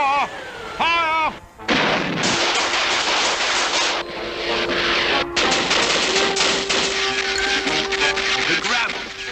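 Cartoon gunfire from police and army, a dense, loud volley of rapid shots and machine-gun bursts lasting several seconds, following a shouted command and with voices at the start.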